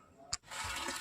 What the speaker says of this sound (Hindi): देखो गाइस मोटर अभी ऑन है, पानी आ रहा है